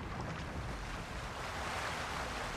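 Rushing waterfall in the video game Peter Jackson's King Kong, a steady, loud broadband roar of falling water that continues without a break.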